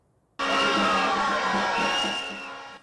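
A large protest crowd roars at Israel's main international airport, the loud sustained cheering and shouting bursting in abruptly and holding steady before easing slightly.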